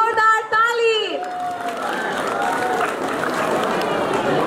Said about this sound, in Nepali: कृपया भाइ बहिनीका लागि जोरदार ताली